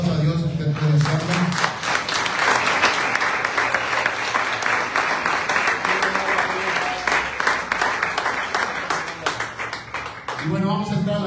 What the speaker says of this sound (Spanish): denle un aplauso a Dios, usted puede hacerlo